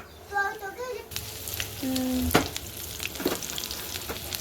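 Garlic and onion frying in a pan for lentil dal, a close sizzle that swells as they drop in, with scraping stirs and a couple of clanks, plus a voice briefly in the background.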